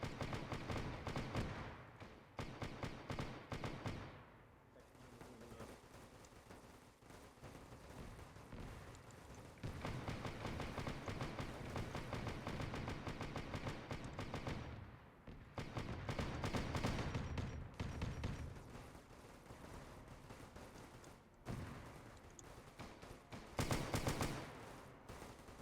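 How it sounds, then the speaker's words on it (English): Ork rockets and gunfire in an Arma 3 Warhammer 40K battle, a dense, continuous roar of rapid shots and blasts that surges and dips over many seconds, loud and sustained with no talk. "I love that the orcs fire their rockets."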